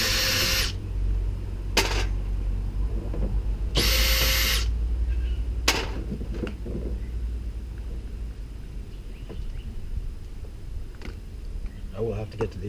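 A power driver backs screws out of a GU Patrol fender in a few short, loud whirring bursts separated by pauses, close up, with some handling clatter in between.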